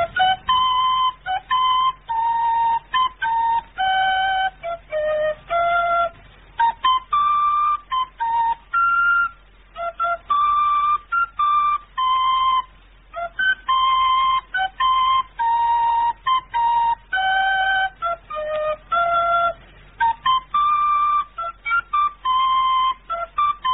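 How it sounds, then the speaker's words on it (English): Someone whistles a tune in a radio drama, a steady run of clear, bright, close-up notes that carries on for over twenty seconds with only brief pauses between phrases. "Heard it being whistled"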